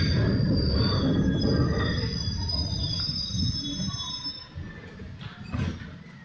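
Train wheels squeal in long, steady high-pitched tones as a train pulls into Halawatha station on the Puttalam to Colombo line, bound for Maradana, over a loud rumbling rolling roar that eases slightly toward the end.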